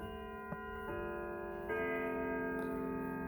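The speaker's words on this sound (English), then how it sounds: "Here's what Westminster sounds like on this 1981 Howard Miller triple chime grandfather clock." A 1981 Howard Miller triple-chime grandfather clock rings its Westminster chime, with clear sustained bell tones struck one after another, each note ringing on and overlapping the last, moderately close and quiet, without talk.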